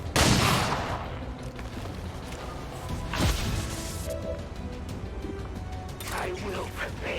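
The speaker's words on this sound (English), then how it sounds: "Pistol." Pistol fire in the video game XCOM 2: a loud sharp shot at the start and another near the three-second mark, over a steady game soundscape with voices talking.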